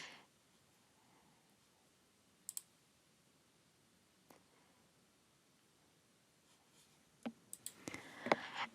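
Sparse sharp mouse clicks, a couple isolated early on and a quick cluster of several near the end, close and crisp over a quiet background.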